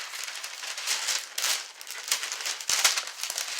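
Paper crinkles and rustles in close, uneven bursts, with a couple of light taps near the end.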